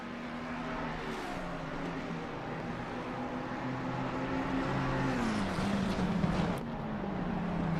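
GT race cars circling Bathurst in a racing video game, a steady droning engine whine that holds a sustained pitch and then shifts as the revs change, fairly faint and without commentary.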